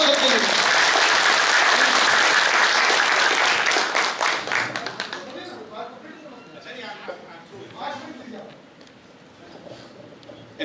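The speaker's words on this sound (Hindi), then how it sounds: "आप तालियां मिलकर बजाओ सबके लिए।" A seminar audience at an insurance risk management talk breaks into loud, dense applause that holds steady for about four seconds, then thins into scattered claps and murmuring voices as it fades.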